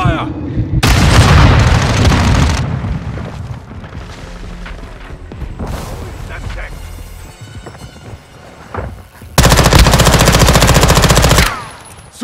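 Loud, close automatic gunfire bursts in Call of Duty: Modern Warfare 2 team deathmatch, opening and closing with sustained heavy fire and quieter shots and booms between, with a voice calling out over the action.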